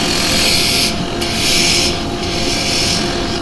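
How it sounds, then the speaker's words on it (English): A drill bores into wood on a lathe during the turning of a threaded lidded pot, producing a loud, steady rasping grind that surges and eases in waves with no talk. "Right, just let me drill this hole."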